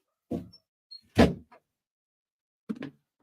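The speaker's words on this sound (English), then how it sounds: "I'm also going to shut the door to my office here" An office door is shut: a soft knock, a louder solid thud with a short rattle, then another clunk a moment later, close and isolated in a quiet room.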